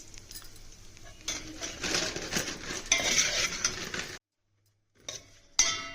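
Coconut and raisins frying in a pan with a spoon stirring and scraping, bright clinking metal scrapes and soft sizzle, a brief pause, then more stirring.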